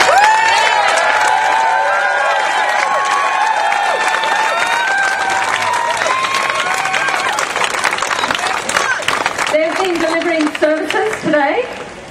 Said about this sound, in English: I actually just want us to give a cheer to all the workers that can't be here tonight